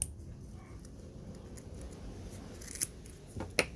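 An expandable garden hose is cut just below a leak: two brief, sharp snips near the end, over a steady low background hum.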